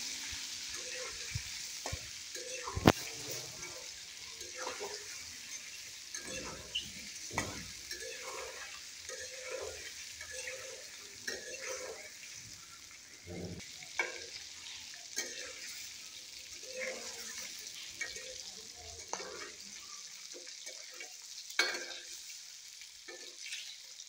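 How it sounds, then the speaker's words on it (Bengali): An egg, seasoned with turmeric and salt, fries in a pan with a soft, continuous sizzle, broken by repeated scraping and knocking as it is stirred and turned. "দিয়ে ডিমটাকে লাল লাল করে ভেজে নেব।"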